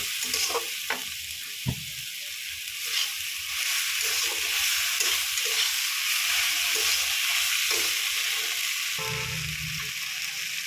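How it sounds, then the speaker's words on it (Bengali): Kulekhara greens sauté in a hot pan with spices, a continuous bright sizzle with a spatula scraping and stirring through them in irregular strokes, close and steady, with no voices. "ভালোভাবে কষিয়ে নেবেন মশলা দিয়ে"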